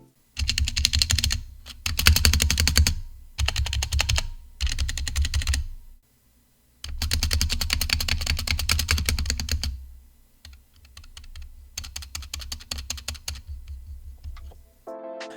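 Typing on a Drop Alt mechanical keyboard with rattly stock stabilizers comes in close bursts of quick clacking keystrokes, separated by short pauses, with a continuous run in the middle and faint rattles toward the end.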